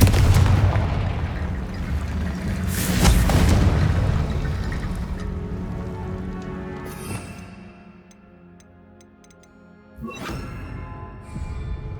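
A Confringo spell explosion in Hogwarts Legacy, a deep booming blast that rolls and decays over several seconds, followed by a second lighter impact near the end, loud and alone without voices.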